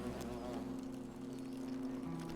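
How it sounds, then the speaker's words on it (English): Bees buzzing near the palace in The Forgotten City, a steady low insect drone that holds evenly through the short stretch. "you can hear bees when you stand here"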